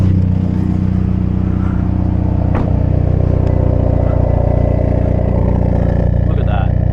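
A 2025 Hyundai i30 N engine idles steadily, a loud, continuous low rumble with a brief sharp transient partway through, heard up close without talk.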